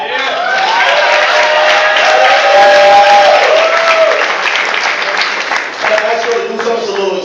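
Audience at Gotham Comedy Club in New York applauding a comedian's family, sustained loud clapping mixed with crowd noise and a few voices, lasting around seven seconds and dipping briefly near the end.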